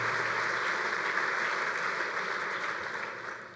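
Sustained applause from an audience at a bowling congress convention's annual meeting, a dense, steady wash of clapping that holds for several seconds and fades slightly toward the end.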